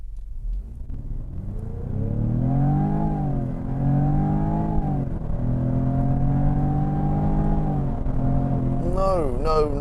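Jaguar F-Type 2.0 P300 four-cylinder with sports exhaust accelerating hard from a standstill, a loud droning engine note climbing steadily through the gears with a brief dip at each shift, close and continuous.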